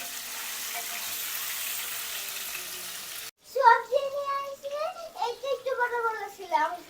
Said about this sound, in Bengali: তেলের ভিতরে লবণ আর একটু হলুদ দিয়ে নিচ্ছি।